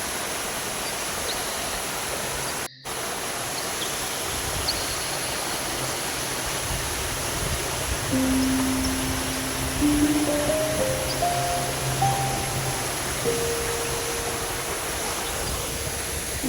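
Broadband rushing water of a stream at Thekke Malampuzha in Palakkad, swollen by monsoon rain and flowing toward Malampuzha, roaring steadily and close for the whole stretch with no talk.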